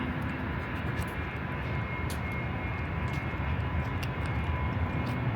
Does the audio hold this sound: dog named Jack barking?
no